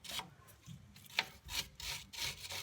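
Wire brush scrubbing rust off a brake line fitting on a 2000 Chevy Cavalier master brake cylinder, a series of close, rasping back-and-forth strokes in an uneven rhythm, with no talking.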